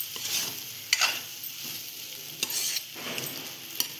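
Cooked rice and vegetables for a jackfruit biryani being stir-fried in a pan over a low gas flame, a soft steady sizzle broken by sharp scraping clinks of a spoon against the pan every second or so.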